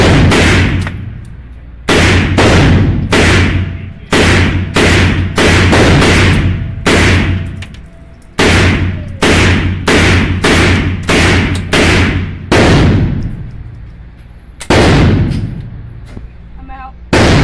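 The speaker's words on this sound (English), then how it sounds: "You don't have to shoot that fast. Just shoot faster than you normally do." Rapid gunshots ring out at a firing range in fast bursts of sharp, loud, close reports, each with a short echoing tail, with brief pauses between strings.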